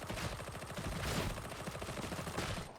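Rapid bursts from a Shredder Auto Pistol in Warhammer 40K: Darktide, a dense, continuous rattle of fast shots running for about three seconds, loud and close with no talk over it.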